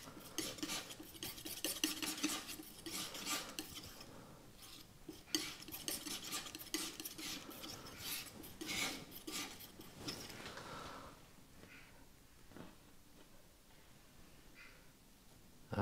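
A palette knife slides and scrapes oil paint across canvas while painting a mountain landscape with broom shrubs, giving rhythmic close scratchy strokes for about ten seconds before fading into quieter, sparser scrapes.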